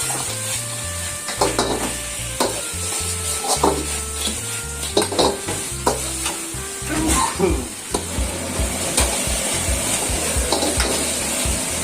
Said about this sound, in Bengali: চিকেন এখন এর মধ্যে দিয়ে দিল ফ্রাই করা ভালো মতো করে